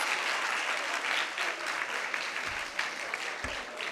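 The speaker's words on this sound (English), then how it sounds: "A round of applause." An audience claps after a high school debate between two schools, a continuous wash of applause at moderate level with a couple of soft thumps near the end.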